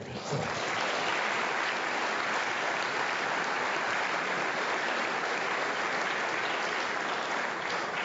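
Steady, dense applause fills a banquet hall at an award dinner, sustained and even for about eight seconds with no talking over it.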